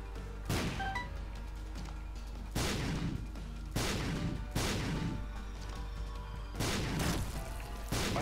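Explosions in The Binding of Isaac: Afterbirth go off as a series of loud, booming bursts, about six of them in close succession, each with a sharp attack and rumbling tail.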